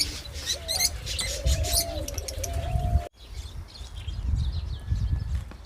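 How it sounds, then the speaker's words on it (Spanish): Budgerigars, Australian parakeets, chirp and twitter in quick bursts nearby over a steady background hum. The chatter is busier at first and thins out after a brief cut. "de este lado tienen que son pericos australianos"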